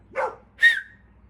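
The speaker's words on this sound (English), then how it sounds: "What are you barking at?" A dog, Toby, barks twice in quick succession close by, the first bark lower and gruffer, the second higher and sharper, against a quiet room.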